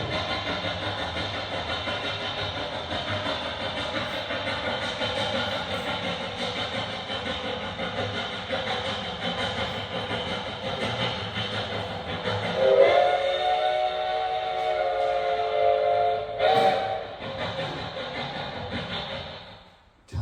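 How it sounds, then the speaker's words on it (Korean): A steam train rumbles and hisses steadily, then a loud steam whistle blows, sustained for several seconds, before the noise fades out. "엔진, 스팀 엔진으로 그 기차를 끌고 가는 거예요"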